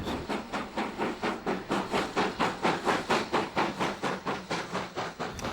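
A steam locomotive climbs a steep gradient, chuffing in a steady, laboring rhythm, about four loud exhaust beats each second, close and continuous throughout.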